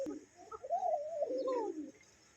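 A semi-adult shirting pigeon gives one soft, close cooing phrase that rises and falls, with no other sound around it.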